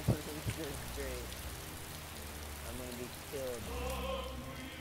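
Steady rain patters across surfaces in the video game DayZ, a dense constant hiss under a voice talking close by.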